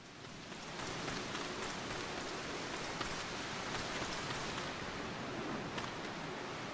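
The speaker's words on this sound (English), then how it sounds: "rain isn't affecting this spot." Steady rain falls in the video game Final Fantasy XIV, a dense, even hiss of drops hitting surfaces that holds constant from start to finish, with no voices.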